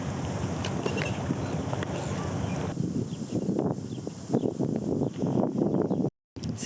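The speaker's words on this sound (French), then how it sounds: "C'est comme ça qu'on ramène nos courses sur le bateau pour rentrer sur notre île." A small boat carries groceries back to an island in New Zealand, its motor and water rushing under steady wind buffeting the microphone, with a few voices and a brief dropout near the end.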